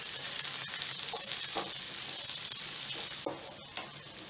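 A large sliced onion frying in a pan for bread idli upma makes a continuous close sizzle, with a few soft stirring clinks and a slight drop in level toward the end.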